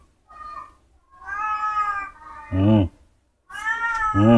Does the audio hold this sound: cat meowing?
yes